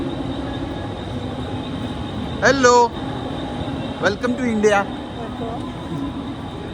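A train stands at a busy railway station, its steady rumble and station ambience running underneath as people exchange a brief greeting in two short bursts of speech.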